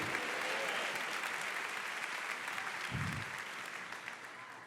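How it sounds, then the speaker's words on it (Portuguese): A church congregation at a Christian conference claps together in praise, dense steady applause heard at moderate distance and easing slightly toward the end, with no speech over it. "Dá uma salva de palmas para Jesus."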